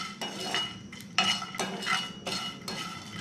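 Spices for Kolkata biryani masala being stirred in a hot pan after the gas is switched off, a spoon or spatula scraping and clinking against the metal in repeated bursts, near and moderately loud with no talk.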